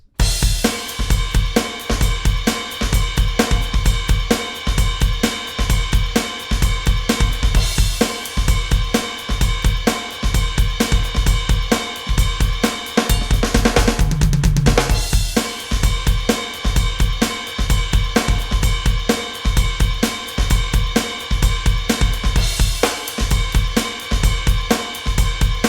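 Drum beat played on a kit with ride cymbal, a loud driving rhythmic groove of steady repeated hits that runs for about 25 seconds with brief fills.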